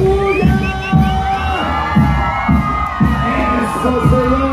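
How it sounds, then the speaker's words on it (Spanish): A carnival parade crowd of Chinelos dancers and spectators cheers and shouts loudly, with whoops and repeated rhythmic bursts, heard up close. "Les llevamos con ese fuerte aplauso"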